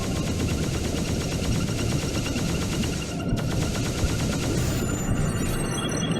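Laser turrets in the Sine Mora EX shooter game fire as a dense, continuous stream of rapid shots over busy game audio, loud and unbroken, with a short dip midway and a rising electronic tone near the end.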